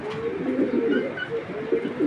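Racer pigeon cooing in a cage, soft low rolling coos repeating steadily at close range, fairly quiet, with no talk.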